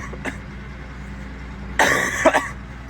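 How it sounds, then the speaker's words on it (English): A man coughs outdoors beside farm equipment while preparing a corn planter: a short, loud burst of several harsh coughs close to the microphone, preceded by a faint earlier cough over steady low background rumble. "excuse me, I apologize for the coughing."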